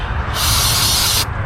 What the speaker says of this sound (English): Getting a little bit of brake clean in there